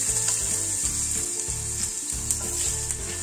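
Onion and garlic sauté in a pan with a steady hiss while a utensil stirs and scrapes in a loose repeating rhythm, close and continuous.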